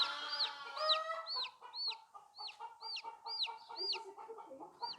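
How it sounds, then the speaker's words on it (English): A cuckoo Scots Dumpy hen clucks repeatedly in a steady series of short, rising calls on a farm, with other fowl murmuring faintly in the background. "So this is a cuckoo hen."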